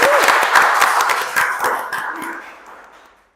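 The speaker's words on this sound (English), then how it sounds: "Give applause everyone" Audience applause at a school English competition final, a brief burst of clapping from a modest crowd that starts at once and fades out within a few seconds, with a little background voice.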